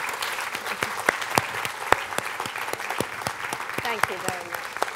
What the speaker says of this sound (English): Let's give Laura a clap